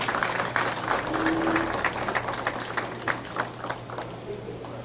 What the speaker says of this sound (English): Let me have a round of applause for the credit union movement.